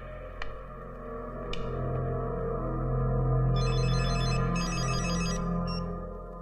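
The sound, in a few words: telephone ringing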